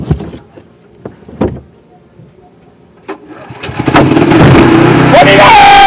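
Engine fires up at an outdoor paintball game after a few voices and knocks, then runs loud and rough close by, rising and holding steady to the end.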